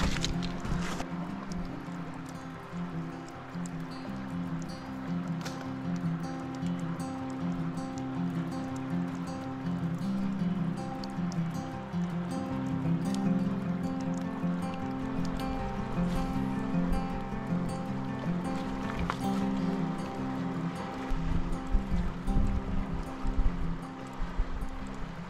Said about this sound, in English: Sure is nice to hear the sound of the river flowing again.